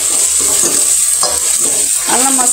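Ginger garlic paste frying with onions in hot oil for chicken dum biryani, a loud continuous sizzle broken by several scraping stirs of a spatula against the pan.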